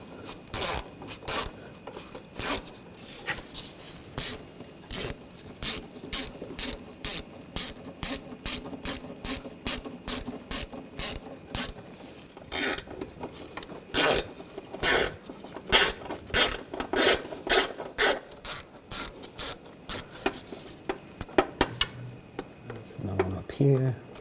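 A hand ratchet clicks in quick bursts as bolts are threaded in during a 2004-2012 Chevrolet Colorado 3.7L starter replacement; close, sharp pawl clicks in repeated runs with short pauses between strokes.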